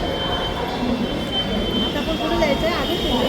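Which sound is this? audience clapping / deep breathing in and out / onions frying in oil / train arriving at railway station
train arriving at railway station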